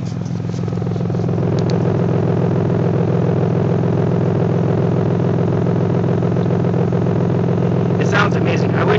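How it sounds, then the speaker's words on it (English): A 1995 Toyota Supra idles with a steady, loud, close exhaust rumble and a low droning tone, holding level throughout, with brief clatter and a few faint sounds near the end. "Bring it over here so you can hear the exhaust."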